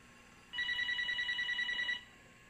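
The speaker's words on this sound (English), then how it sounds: "before we was disturbed with the telephone ringing there" A telephone rings once in a room during a family interview, a single steady electronic trill lasting about a second and a half, clear and fairly close, with no one speaking over it.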